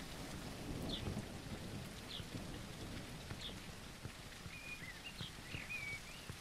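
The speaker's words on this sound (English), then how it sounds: "Starting to rain now." Steady rain with rolling thunder in the video game Hereford 1642, a broad continuous wash of falling rain with low rumbles, plus a few faint bird chirps in the background.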